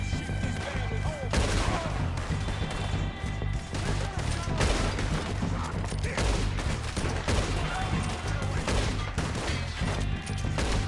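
Dense, continuous gunfire in Red Dead Redemption 2 roars through the whole stretch, a loud fusillade of overlapping shots and impacts with no pauses.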